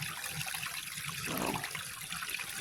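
Water running steadily down through a sluice box, a close, continuous rushing trickle with a slight swell in the middle.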